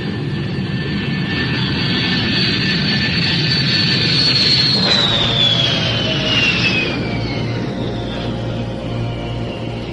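An airliner takes off in a radio drama sound effect, with a loud continuous jet roar whose high whine sweeps downward as the engines power up and the aircraft climbs away.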